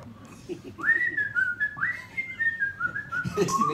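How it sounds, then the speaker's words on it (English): A person whistles a clear, melodic tune of sliding notes, close and fairly soft over a low background murmur. "But then I learned to whistle, and now I'm a really good whistler, actually."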